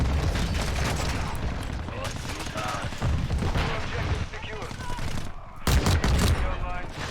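P890 pistol fire in a shooter video game: rapid, repeated sharp shots in dense bursts mixed with other battle noise, loud and continuous throughout.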